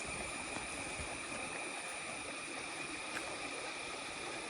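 Cold water from a waterfall near Manjolai rushes along as a steady stream, a continuous, even hiss and gurgle with no breaks and no voices.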